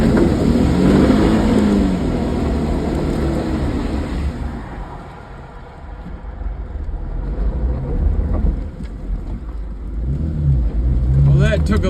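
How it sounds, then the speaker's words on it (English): A Jeep crawling off-road in first gear on a muddy trail in northern Michigan, its engine droning loudly and steadily with wind buffeting the microphone and swelling revs near the end. "We are on Ely Road, so we are going to go down to first gear."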